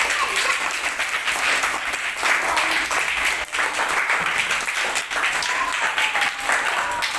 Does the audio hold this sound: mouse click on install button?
no